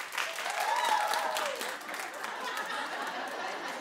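A studio audience claps steadily, a dense wash of applause that fades a little after its opening swell, with scattered chuckles and a voice mixed in.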